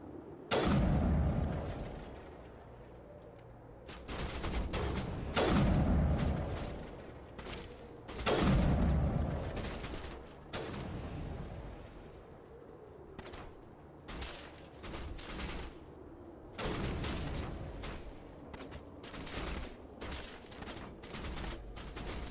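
Loud bursts of gunfire and heavy booms from a shooting gallery firefight in the Mass Effect Legendary Edition game, arriving in repeated clusters with brief gaps, close and dominant with no talk.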